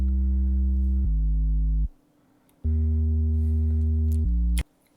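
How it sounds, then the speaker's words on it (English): Sub bass sine wave from 3 Oscillator, lightly distorted with Fruity Blood Overdrive, playing loud sustained low notes that change pitch, cut off by brief gaps. "just basically 3 oscillator playing a sine wave, and then I distorted a bit with Fruity Blood Overdrive"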